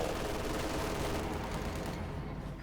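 Sustained, dense automatic fire from an MG42 machine gun in the strategy game Company of Heroes 2, a loud continuous burst of rapid shots filling the whole moment with no talk over it.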